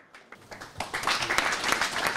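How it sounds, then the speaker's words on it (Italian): Audience applause at an evening sports awards ceremony honouring a Panathlon Fair Play prize winner, starting from a few scattered claps and swelling into dense, sustained clapping that fills the hall. "Un grande applauso a Fiorella"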